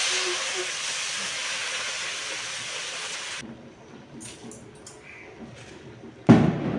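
Mint leaves fry in a pan for chutney, giving a loud, steady hiss that cuts off abruptly partway, leaving faint clinks before a brief sharp clatter near the end.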